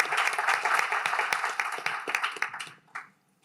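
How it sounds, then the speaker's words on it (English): An audience at a GDC 2025 panel session applauds the panelists with a burst of many hands clapping that starts strong, thins over a few seconds and fades out near the end. "So if we could first just have a round of applause for our panelists."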